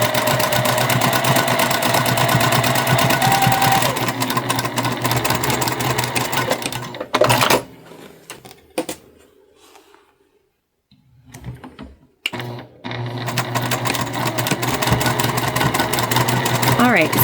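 A sewing machine quilts fabric for a small beginner-style basket, running loud and steady with a brief stop partway through before starting again. A person talks over the motor at times.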